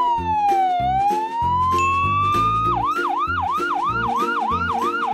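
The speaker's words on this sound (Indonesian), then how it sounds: "Di sini ada ambulan" Toy ambulance siren, loud and close, with a synthetic tone that first slides slowly and then switches to a rapid rising yelp, repeating over a background of electronic music notes.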